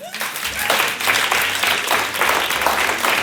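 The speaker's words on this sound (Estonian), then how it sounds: "Teeme suure aplausi, see oli Gregor." A studio audience at a dating show gives a big round of applause, with dense, sustained clapping from many people filling the whole stretch at steady strength and some talk underneath.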